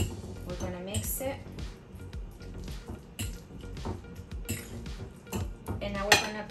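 Mashed banana and vanilla stirred together in a bowl for three-ingredient banana oatmeal cookies, with a utensil clinking and scraping against the dish in a steady rhythm while someone talks over it.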